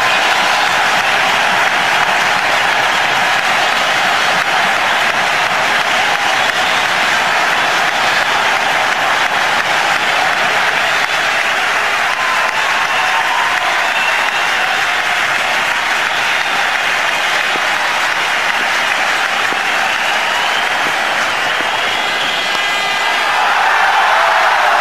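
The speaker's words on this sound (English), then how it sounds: "Tremendous ovation here from the crowd." Huge stadium crowd at a one-day international cricket final in Sharjah between India and Australia roaring and applauding for Sachin Tendulkar's century, a loud, sustained, unbroken wall of clapping and cheering.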